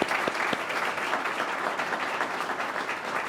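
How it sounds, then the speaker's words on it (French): A large crowd applauds loudly and steadily, dense clapping filling the room without pause. "ils vont s'applaudir très fort."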